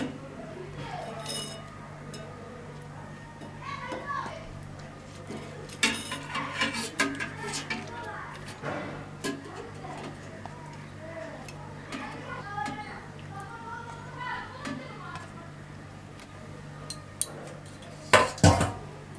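Shrimp being placed into a metal tiffin box in a kitchen, heard as repeated light clinks and scrapes of metal and utensils under a steady background hum, with a sharper clatter near the end.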